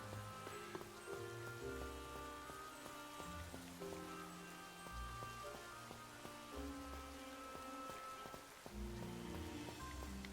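Steady rain pattering in a Pokémon video game, a constant soft hiss of falling drops running beneath the game's tonal background music throughout.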